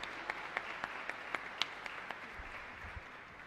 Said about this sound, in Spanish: Fuerte aplauso, que viva Jesús.